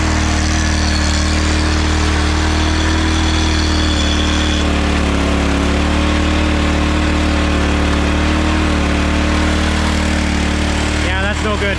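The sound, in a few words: wood splitter engine running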